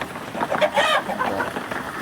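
Native chickens cluck and murmur nearby in a brief, busy patch of overlapping calls, with faint farmyard background.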